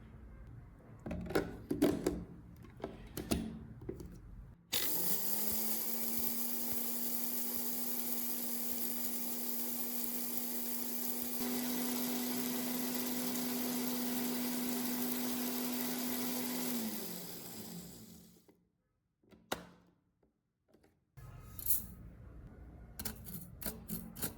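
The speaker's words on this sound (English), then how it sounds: "Then she puts that part back into the grinder until it becomes perfectly smooth" An electric grinder pulverizes turmeric into fine powder, starting abruptly into a loud, steady whirring drone that holds for about thirteen seconds before winding down, with scattered clatter and handling noises before and after.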